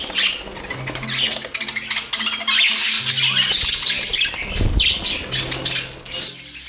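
Pet budgerigars squawk and chatter loudly and continuously close by, harsh repeated calls with a few brief flutters, in a courtship and squabbling exchange.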